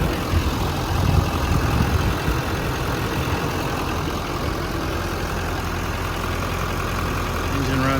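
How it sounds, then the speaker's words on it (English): A 2015 Chevrolet 3500 mechanics service truck with crane and compressor idles as a steady, low, even engine rumble heard close, with a slightly louder surge near the start and no talk over it. "Engine runs great."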